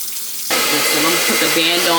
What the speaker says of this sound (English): So I'm gonna take a washcloth and I'm going to wet it.